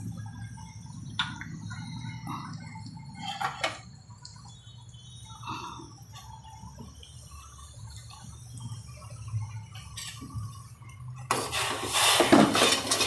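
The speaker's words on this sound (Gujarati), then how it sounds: "આવી રીતે હલાવતું જવાનું કે ખાંડ નીચે ચોટી જાય" Sugar syrup being stirred in a pan on the stove, heard as scattered metal spoon clinks and scrapes against the pan over a low background hum, with a louder bubbling burst near the end.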